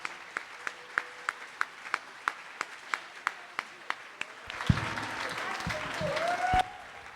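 A few clear single claps tick along at a steady pace, then a dense wash of crowd applause swells up and holds for a couple of seconds before cutting off, with a tone sounding over it.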